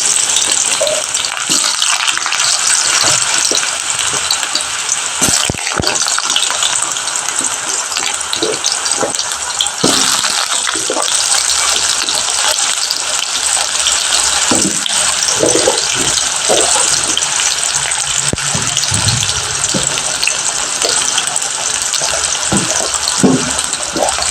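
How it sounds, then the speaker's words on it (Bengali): Potatoes dropped into hot oil for a pumpkin and prawn curry sizzle loudly and steadily up close, a dense continuous crackling hiss with small pops throughout. "এবার তেলের মধ্যে আলুগুলো দিয়ে আমি আগে ভেজে নেব আলুগুলো দিয়ে দিলাম"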